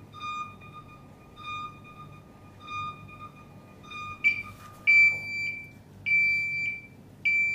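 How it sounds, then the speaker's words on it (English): A SATO CL4NX Plus label printer sounds its alarm with steady, evenly spaced electronic beeps that then switch to a brighter, higher beep pattern, clear against a low machine hum. "The alarm light flashes red and beeps."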